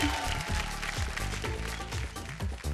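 Studio audience applause on a Bhojpuri TV game show, heard faintly beneath a loud, rhythmic music sting with a repeating beat, no talk on top.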